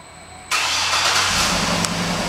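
A black 2009 GMC Yukon Denali AWD starts by remote: after a short hush, the engine catches abruptly and settles into a steady, fairly loud idle rumble that carries on to the end.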